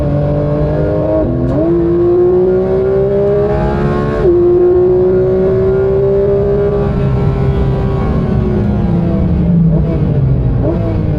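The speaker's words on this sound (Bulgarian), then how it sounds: "This is just where we came out of the pit, then we start to speed up." A Porsche Cayenne accelerating out of the pit onto a race track, its engine droning loud and close with a rising pitch that drops briefly at each gear shift, heard alone without talk.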